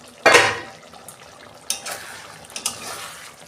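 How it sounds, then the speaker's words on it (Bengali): A lid comes off a pot of cauliflower and potato curry with a sharp metallic clank, followed by a few lighter clinks and taps against the cookware, fairly close. "দেখুন বন্ধুরা ঢাকনা খুলছি"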